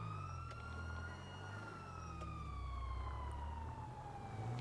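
Police car siren in GTA 5, a loud wailing tone that slowly sweeps down and up in pitch over low engine rumble, with no talk.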